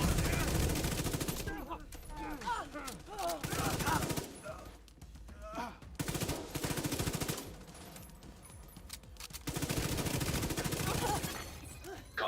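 Gunfire in a PvE shooter game comes in loud sustained automatic bursts separated by short pauses, with some shattering debris between volleys.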